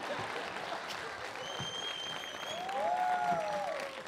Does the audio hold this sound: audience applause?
yes